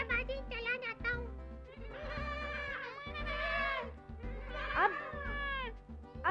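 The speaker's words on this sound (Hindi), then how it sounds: "अरे नूरे, तुम अभी तक बकरी के साथ खेल रहे हो?" A goat in a puppet show bleats repeatedly in wavering, nasal cries, fairly close, over a steady low musical hum with brief pauses between calls.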